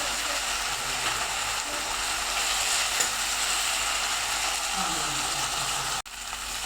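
Onion, garlic and ginger browning in oil in a pan, giving a steady, dense sizzle with faint scraping, even and close throughout before a brief break near the end.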